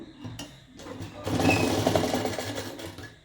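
A sewing machine stitches thread piping, running steadily with a mechanical whir that builds up and holds, close by. Faint speech can be heard in the background.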